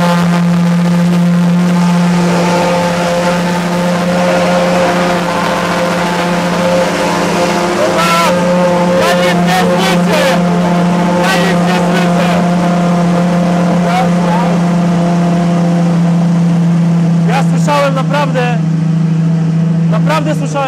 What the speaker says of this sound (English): Naprawdę słyszałem już dużo samochodów, które były głośne, ale dźwięk cold startu w Gintani